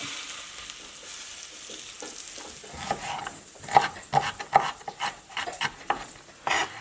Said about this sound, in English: this chop has gone about 4 or 5 minutes. Let's go ahead and give it a flip